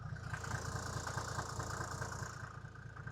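Mercedes G350d diesel engine idling steadily, a close, even low rumble with a rapid knocking clatter running through it and no break in the sound.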